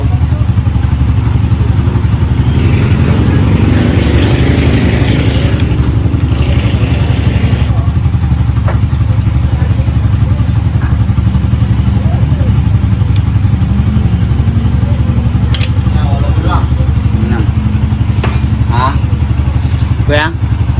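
A Honda PCX 160 scooter with a CVT set and stock clutch runs close and loud in a steady, rough drone with a faint mechanical clatter, while brief voices come and go in the background.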